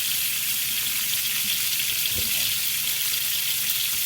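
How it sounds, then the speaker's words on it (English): Steady, even sizzling of chicken and pork chops frying in a pan, a constant crackling hiss close by with a faint clink partway through. "that chicken and those chops are cooking along nicely"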